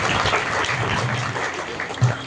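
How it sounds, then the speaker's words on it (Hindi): A crowd claps steadily at an award ceremony, a dense continuous patter of applause held at an even level for the whole moment. "इसके परिवार के लिए जोरदार तालियां चाहूंगा"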